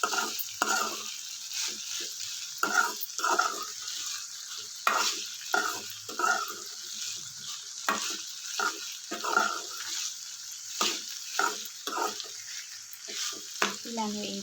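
Food is fried in oil and stirred until its moisture cooks off. A spoon scrapes the pan in repeated short strokes with pauses, over a soft constant sizzle, close by.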